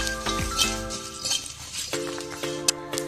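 A spoon clinks against a pan as fennel and cumin are stirred for a Bengali sweet tomato chutney, giving light, irregular metallic taps over a faint sizzle.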